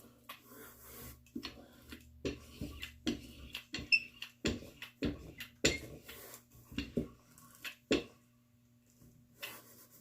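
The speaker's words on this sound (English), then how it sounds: "when you don't hear the adhesive squishing anymore, you know that you've got a good stick" Adhesive under Yupo paper squishes and pops as the sheet is pressed onto a wood panel: a close, quiet run of irregular soft clicks and squelches over a faint steady hum, with no one talking.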